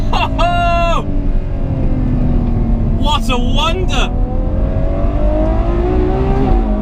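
Ferrari 812 Superfast V12 on a race track, engine droning loudly through a gear shift with rising and falling revs, while a man exclaims over it and another brief voice cuts in later.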